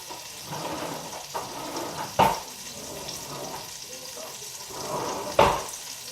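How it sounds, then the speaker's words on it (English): Butter sizzles and crackles softly in a hot pan, with a couple of sharp clinks of a utensil against it and faint background shuffling. "Don't know if you can see or hear that sizzle, but it's good to go."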